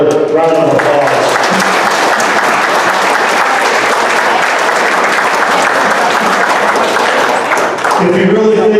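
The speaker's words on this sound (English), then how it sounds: "I think we need to give him another round of applause." Loud, dense banquet applause for an award recipient, a sustained crowd clapping close by for several seconds, with a voice speaking briefly at the start and again as it ends.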